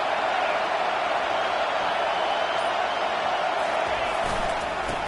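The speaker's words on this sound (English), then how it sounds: "This crowd trying to make life miserable for this offense." A football stadium crowd roars against the opposing offense, a dense, unbroken wall of noise that stays loud and even throughout.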